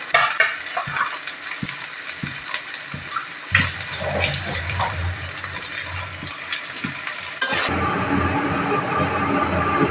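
Onion, ginger and a little garlic frying lightly in a pan, a steady close sizzle with intermittent stirring scrapes and clatters, growing louder and denser near the end.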